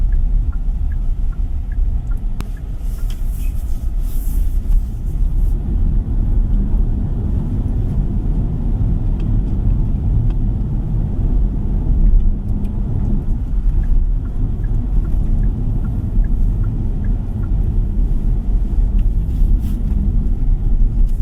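A 2026 Kia EV5 drives on the road, heard from inside the cabin as a constant low rumble of road and tire noise with faint higher ticks and clicks over it, steady and fairly loud throughout.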